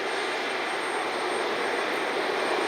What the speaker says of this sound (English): Flight 1341 on the JetBlue E190.